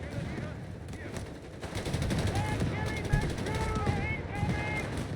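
Machine gun fire in the video game Company of Heroes 3: sustained rattling automatic bursts amid battlefield noise, steady and moderately loud throughout.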